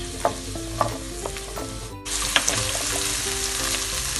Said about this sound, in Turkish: Ve şimdi ayıklamış olduğum ve yıkamış olduğum iç baklamı içerisine ilave ediyorum.